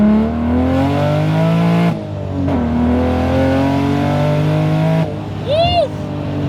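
A 900-horsepower manual Toyota Supra pulls hard in second gear, its engine note climbing steadily, dropping briefly at a shift, then climbing again, loud and close from inside the car, with a voice whooping near the end.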